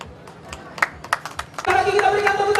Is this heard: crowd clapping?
yes